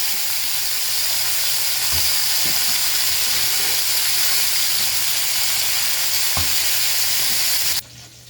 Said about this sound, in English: I'll flip my hamburger steaks.